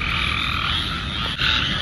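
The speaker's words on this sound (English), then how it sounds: "1, 2, 3, 4 squirrel tree frogs just all sitting right there." Squirrel tree frogs call in a dense, continuous chorus of loud, raspy croaks that overlap into a steady wall of sound, close by and with no voices.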